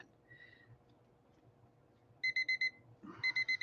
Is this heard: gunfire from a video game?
no